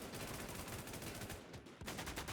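Rapid automatic gunfire crackles through a shooter video game in a dense, continuous barrage of shots with a brief lull before the firing resumes.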